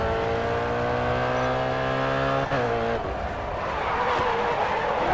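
A race car in GRID Autosport revs hard, its engine tone climbing steadily and loud, then breaking into rougher, noisier roaring and tyre scrub as the car slides through a corner.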